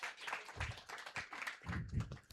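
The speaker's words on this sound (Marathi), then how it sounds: "सर्वांनी तिच्यासाठी सुद्धा टाळ्या वाजवायच्या आहेत" A church congregation gives a short burst of applause, quiet and somewhat distant, with dense overlapping claps lasting a couple of seconds.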